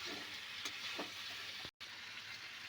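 Potatoes added to a cooking pan are stirred with a faint, steady sizzle, soft scraping touches breaking through the low hiss, with a brief dropout to silence partway through.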